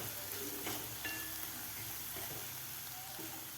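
Ground masala paste sautéing in a pan for a stuffed sponge gourd curry, giving a close, steady crackling sizzle throughout, broken by a few light scrapes and taps of stirring; no one speaks.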